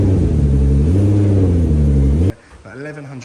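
A modified car engine of about 1100 brake horsepower roars loudly and close with a rising and falling rev, then cuts off sharply, leaving a softer rev swell and some nearby talk.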